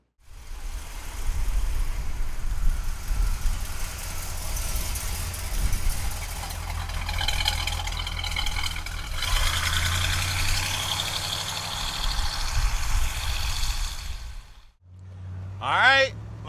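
A 1970 Oldsmobile Cutlass engine idles with a steady, loud low rumble for most of the stretch, its tone shifting midway, before cutting off and giving way to a brief, sharper sound at the end.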